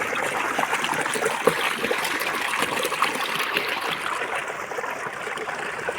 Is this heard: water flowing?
yes